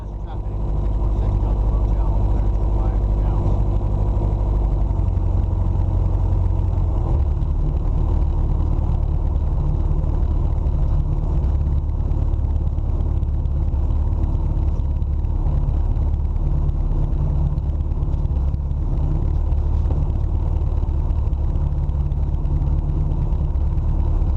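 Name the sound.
small airplane taxiing into the FBO at The Dalles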